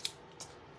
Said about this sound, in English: Take your scissors and cut it and put it on